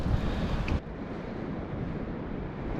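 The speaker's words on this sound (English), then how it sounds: "Wind increased and a massive swell out there." Strong wind and heavy sea swell during a storm at sea on a bass fishing trip, a loud constant roar of gusts buffeting the microphone over rushing water, with no voices.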